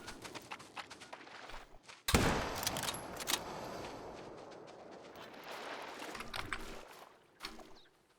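A hunting rifle fires a single sudden, loud shot at a crocodile in the video game theHunter: Call of the Wild, on the Emerald Coast map. A sustained rumbling tail follows over faint background ambience.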